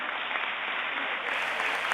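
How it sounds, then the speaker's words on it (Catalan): Sustained crowd applause for the fallera mayor of València at her naming ceremony, steady and dense throughout with no breaks. "Mira, este aplaudiment és per a tu."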